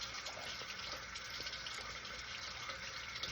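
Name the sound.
rinsing face with running tap water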